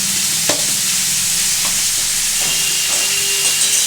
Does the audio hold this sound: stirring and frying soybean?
yes